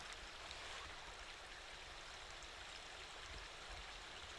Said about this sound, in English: you can hear the water going by